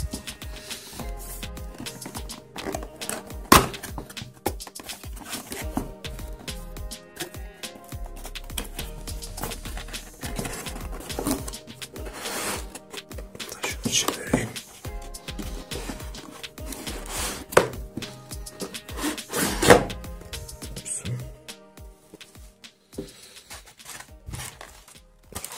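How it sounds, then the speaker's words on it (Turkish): A Keenetic Omni DSL N300 modem box being opened: cardboard rustles, taps and scrapes as flaps and contents are handled, close up and irregular, with no speech. "Şimdi kutumuzu açalım."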